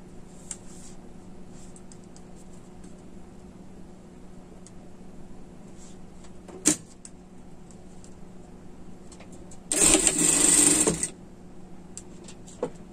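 A sewing machine stitches a knit pet sweater in one short, steady whirring run about a second long, close by, amid an otherwise quiet room with a few light handling taps.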